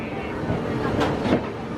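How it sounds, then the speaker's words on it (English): A double-decker express train departs Chennai beside another express, a steady broad rumbling roar that swells briefly as it passes, heard from a moving train. "Double-decker express departing Chennai along with the Vijayawada Janashatabdi."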